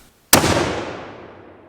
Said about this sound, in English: fired another round